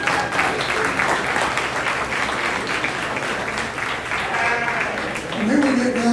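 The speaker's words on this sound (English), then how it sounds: "Let's give them a round of applause." Audience applause at a market lamb show arena, a steady, full wash of clapping from a crowd that holds for several seconds, with a voice briefly rising near the end.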